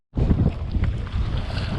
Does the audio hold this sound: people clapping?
no